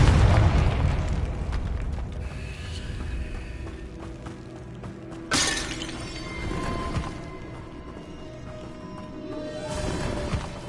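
A Confringo spell explosion in Hogwarts Legacy goes off as a loud, sharp blast with a shattering crash, followed by a second burst and lingering rumble as the debris settles.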